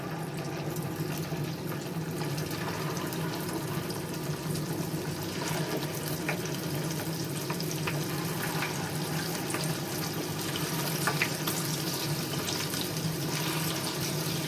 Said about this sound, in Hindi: अभी इसको हम फ्राई कर लेंगे।